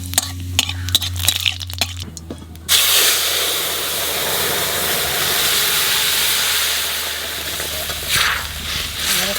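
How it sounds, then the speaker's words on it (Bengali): Cumin seeds and bay leaves dropped into hot oil, a sudden loud sizzle that bursts in and holds as a steady close hiss, after a few faint clatters at the start. "জিরে আর তেজপাতা তেলের মধ্যে দিয়ে দেবো"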